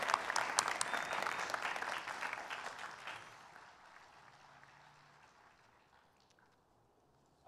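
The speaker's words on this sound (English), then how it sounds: "I heard the parents' applause is really louder than the students." Parents and students applaud at a university business school academic celebration, clapping loud at first and then fading steadily away to near silence.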